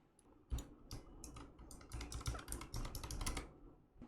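A password is typed on a computer keyboard, a close run of quick, uneven key clicks with short pauses between bursts, alone without talk.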